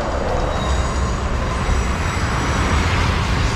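A Pune metro train rolls past the unfinished Yerawada metro station without stopping, a steady broadband rumble with low rail noise holding at a constant level throughout, fairly close and with no voices.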